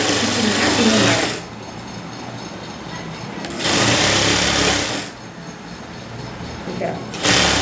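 A sewing machine stitches canvas into a blouse neck in bursts, its fast mechanical whirr starting and stopping close by while someone speaks over and between the runs.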